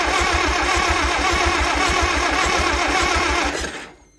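A tractor engine cranks steadily and close by in a fast, even chugging rhythm for several seconds, then stops without catching.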